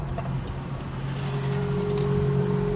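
A Vauxhall Senator B 3.0i CD is heard from inside at steady speed, its engine and exhaust giving a constant droning resonance with a low steady hum under road noise, and no talking.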